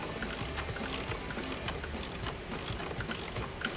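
A ratchet with an extension and 8mm socket loosens a bolt during a PCM swap on a 2019-2021 RAM truck, giving a dense, steady run of close mechanical clicking with regular stronger bursts and no talk.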